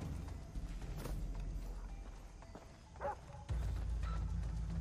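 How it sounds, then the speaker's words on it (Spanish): A dog barks in the jungle of Far Cry 3, a few short barks against a steady game ambience, with a heavier thump near the end. "Escucha un perro, ¿eh?"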